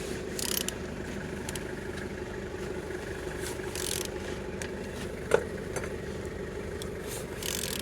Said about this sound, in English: Turning your engine